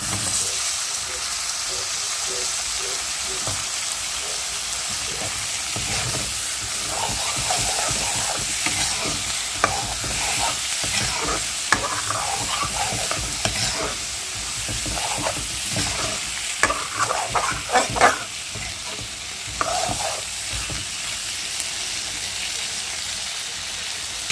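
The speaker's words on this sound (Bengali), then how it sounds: "মাছটার সাথে আলুটি দিলাম" Fish and potatoes fry together in a pan with a loud, continuous sizzle, punctuated by frequent scraping and clattering as a spatula stirs them close up.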